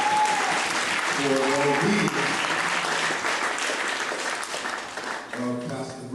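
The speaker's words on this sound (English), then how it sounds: "Let's give the Lord a hand clap of praise" A church congregation clapping in praise during an evening homecoming service, sustained loud applause with a voice speaking over it partway through.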